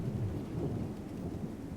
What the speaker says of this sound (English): Ooh, they weren't kidding about that storm rolling in.